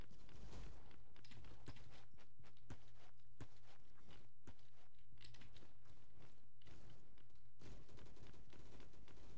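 Sniper fire in the video game Bad Business comes as a rapid series of sharp, punchy cracks and thuds, steady and fairly loud, alone without talk.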